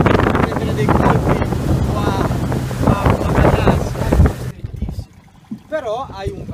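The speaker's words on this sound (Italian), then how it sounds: "Devo dire, è una gran bella barca, soprattutto come mezzo da lavoro" An SM 56 motorboat runs on open water at La Spezia, a steady engine and hull rush buffeted by wind on the microphone, close and loud, then quieter near the end as someone speaks.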